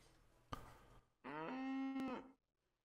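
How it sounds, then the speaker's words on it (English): A cow sound effect from Syrinscape: a short knock comes first, then one clear, sustained moo with a rich harmonic tone that lasts about a second before cutting off into quiet. "Or a cow."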